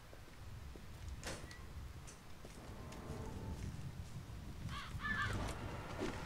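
Crows caw in the zombie game Zombi: a few harsh, distant caws over a quiet, misty ambient bed, with a short burst of repeated calls near the end.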